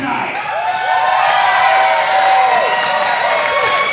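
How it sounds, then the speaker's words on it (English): A wrestling crowd roars and cheers at a live event, loud and sustained, with whistles and whoops over the dense noise and a commentator's voice running over it. "Wow, this crowd is hot tonight."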